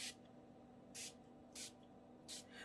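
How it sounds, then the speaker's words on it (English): Three short bursts of aerosol oxide spray paint hiss, evenly spaced, close and bright against a quiet background. "We're going to spray the oxide spray in areas."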